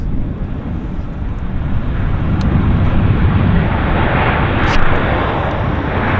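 An airplane landing at Vancouver airport with its flaps extended roars steadily and loudly throughout, a broad engine rush swelling slightly toward the end under outdoor wind.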